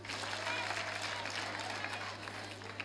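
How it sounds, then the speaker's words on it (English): Audience applause at an education and leadership congress in Kakuma, a steady wash of clapping from a crowd that holds evenly throughout. "Can you clap for her?"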